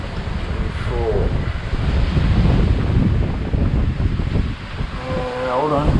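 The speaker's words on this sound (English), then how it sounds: "A little bit of breeze here now" Strong wind of about 23 knots at sea, roaring steadily across the microphone with surf and wave wash, loud and continuous, with brief voice fragments near the start and end.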